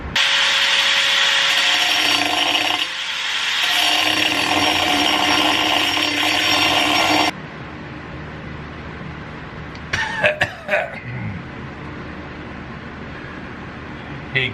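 An angle grinder cuts into a piece of steel with a loud, dense, high-pitched whine that runs for about seven seconds, then stops abruptly, leaving quiet room tone and a few clunks and handling noises.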